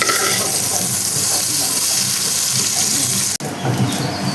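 Fried fish lifted one by one from hot sizzling oil, a steady loud hiss of frying that cuts out briefly near the end before resuming.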